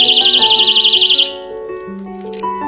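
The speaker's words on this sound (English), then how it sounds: "And it has an alarm and a flashlight." A personal safety alarm on a self-defense keychain that also has a flashlight blares a loud, shrill warbling tone for just over a second, then cuts off and leaves scattered fainter tones.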